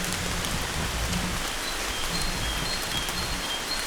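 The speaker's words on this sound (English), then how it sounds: "Okay, the rain's getting a bit bad." Heavy rain pours outdoors on a coastal walk in Cornwall, a dense, steady hiss of drops striking nearby surfaces, loud and continuous with no voices.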